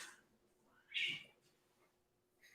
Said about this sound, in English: That was my old cat attacking the new cat.